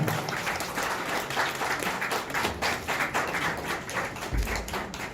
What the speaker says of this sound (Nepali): उहाँले जोरदार रूपमा ताली बजाएर यो उद्घाटन सत्रलाई सहयोग गरिदिनु होला।